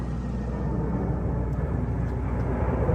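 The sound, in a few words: large airplane flying overhead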